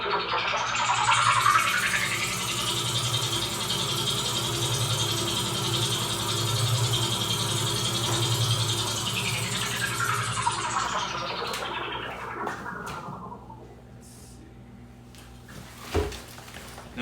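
Spaceship sound effect made on a Korg Poly 800 synthesizer for the 1980s Spartacus cartoon: a sustained, swelling synth drone with sweeping tones that fades out toward the end, leaving a faint tail and a small knock.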